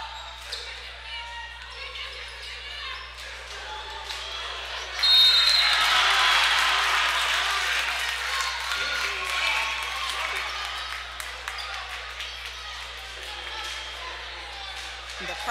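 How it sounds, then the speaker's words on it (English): A home crowd roars and cheers in a gym during a women's college basketball game between Johnson C. Smith and St. Augustine's, a sudden loud swell that stays sustained, with sneaker squeaks and bounces underneath. "The crowd goes wild after that last play there."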